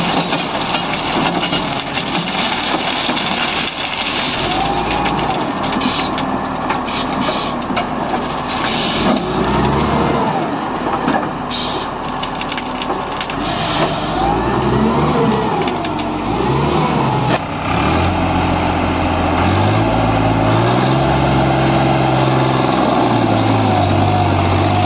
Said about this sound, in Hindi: पावर देख सकते हैं, जोर बहुत जबरदस्त लगा रहा है ट्रैक्टर।